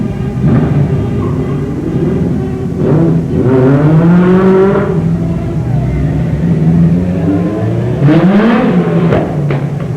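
Dwarf race cars at a small-town Christmas parade revving their engines, loud repeated rising and falling engine whines in two main bursts over a constant rumble.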